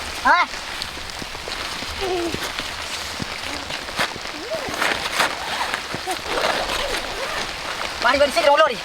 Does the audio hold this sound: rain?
yes